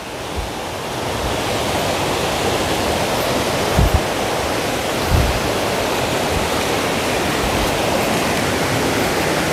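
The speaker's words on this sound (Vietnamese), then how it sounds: "Mấy hôm nay trên này trời nó cũng mưa cả nhà. Nên là nước suối nó cũng lớn hơn mấy hôm trước ha." Mountain stream running high and fast after several days of rain, a dense continuous rushing roar of water heard up close, with a couple of faint thumps and no talking.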